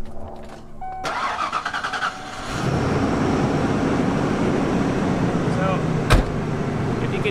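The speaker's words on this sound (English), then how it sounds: "You can hear the engine. You hear it kind of going up and down a little bit." A car engine with major engine problems cranks and catches, then settles into a loud, steady idle that rises and falls slightly, with a brief sharp click near the end.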